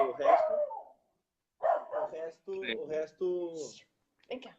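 A dog barks a few times in short bursts, closely interleaved with someone talking.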